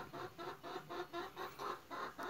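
Hens crowded into nest boxes, one sitting on top of another while laying, cluck in a steady repeating rhythm of short bursts, moderately close with no talk.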